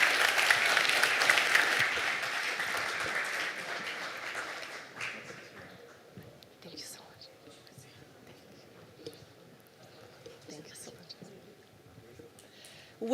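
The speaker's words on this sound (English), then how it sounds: "we can have a round of applause" A room full of panel attendees gives a round of applause at a private equity event, steady dense clapping for about five seconds that then fades into quieter murmuring and scattered sounds.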